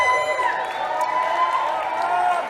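Livestream event crowd at Alpenglow Sports cheering and whooping steadily, with high whistles and shouts blending into a sustained roar from start to finish, fairly loud and close.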